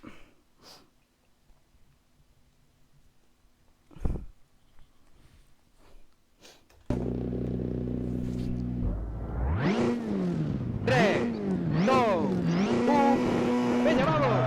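A rally car on an asphalt stage at the Rallye Mediterráneo, heard from inside: after a few quiet seconds with small knocks, the engine roars in abruptly and revs up and down loudly through the gears.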